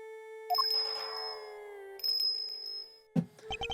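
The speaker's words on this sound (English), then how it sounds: "His appearance was always announced by the sound of bells." Bell chimes ring out in the Ace Attorney Investigations video game, heralding the blind butcher with bright, sustained metallic tones in two long ringing bursts, followed by a quick cluster of sharper dings.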